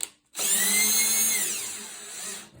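Close by, a power drill spins a screw backwards while a TV mount is installed, producing one steady high whir for about two seconds that tapers off gradually.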